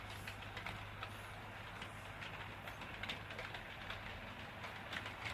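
Model railway diesel locomotive on an Exeter and Laira layout running off behind the station: a quiet, steady electric hum and rumble with faint rhythmic clicking, continuous throughout.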